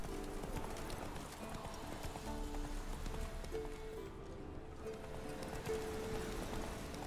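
Horse hooves clip-clopping in The Witcher 3: Wild Hunt, a steady run of mid-level hoofbeats over a continuous game soundscape, with no talk during the clip.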